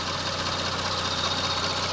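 A Toyota Camry 30 engine idles on petrol during gas equipment repair, a steady, loud, even hum with a constant low drone and no speech.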